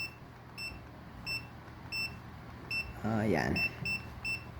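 A multimeter's continuity buzzer beeps in short, evenly spaced electronic pips while testing a dead digital clock, and a brief rising whine and low voice sound midway.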